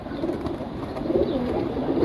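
Caged pigeons coo in a continuous soft, throaty murmur close by, several birds overlapping, with no talking.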